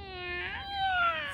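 Cat meowing in a children's audio story, a single clear, drawn-out meow that rises and bends in pitch, close and fairly loud, with no voices over it.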